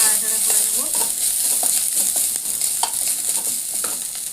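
Vegetables sizzle in a pan with ginger paste and cumin seasoning while a spoon stirs and scrapes in quick irregular strokes, loud and close, with no one talking.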